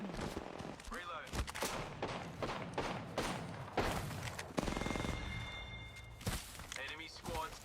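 Knuckle Cluster weapon firing in an Apex Legends-style shooter game, a dense run of repeated gunfire bursts and thuds going off close and loud, with a voice talking over the shots throughout.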